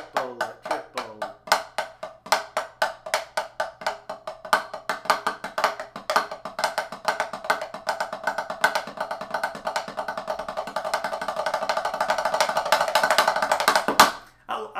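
Hand drum flams strung together as triplets, a steady stream of close, crisp strikes with grace-note doublings that gradually quicken and grow denser and louder toward the end before stopping abruptly.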